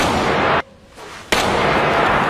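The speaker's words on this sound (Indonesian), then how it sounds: "Mendengar suara tembakan, Pak Takimoto dan yang lain pun langsung ber" A loud gunshot sound effect bursts out, with a sharp blast, a brief dip into near-silence, then a second abrupt crack followed by sustained noisy rumble.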